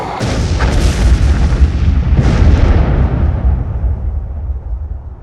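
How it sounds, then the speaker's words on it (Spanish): A bomb detonates with a loud, deep explosion that rolls on as a long, fading rumble over about five seconds, with no voices. "se detonó la bomba del sitio"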